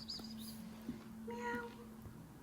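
Two or three short meows from a cat in a cat cafe, over a steady low hum and soft background voices, fairly close and moderate in volume.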